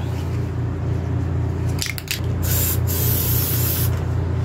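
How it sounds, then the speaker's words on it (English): A spray paint can hisses onto a diecast car in several short bursts, close and fairly loud over a steady low background hum. "Just spray a bunch."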